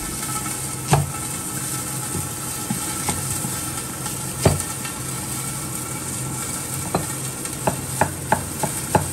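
Green peppers stir-fried in a home kitchen pan give a constant sizzle, with sharp utensil knocks and scrapes against the pan, several bunched near the end.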